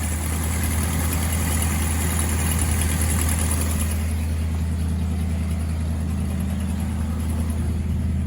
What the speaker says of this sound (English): it's idling pretty high, but that can be tuned down